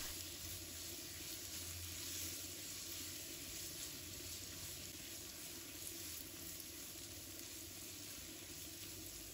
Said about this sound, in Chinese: 再把四季豆放入锅中，炒至断生